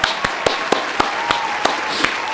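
A round of applause for a streetwear clothing brand, heard as a small group clapping in a slow, evenly spaced rhythm of sharp single claps, close and moderately loud.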